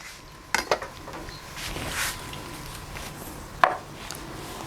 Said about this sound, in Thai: จากนั้นก็ใช้มีดหั่นครึ่งก่อนครับ